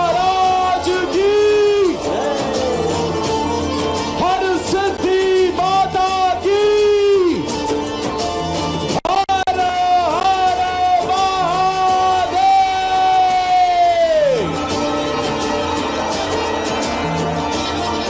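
A large crowd at a religious gathering chants in response to a call honoring Mahakal Maharaj, long sustained sung cries rising and falling in waves, loud and resonant, repeating twice.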